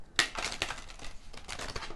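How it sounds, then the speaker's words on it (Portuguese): A tarot card deck being shuffled by hand, with quick papery riffles and crinkly bursts repeating through the two seconds, close and fairly soft, with no voice. "Vou embaralhar esse deck bem embaralhado"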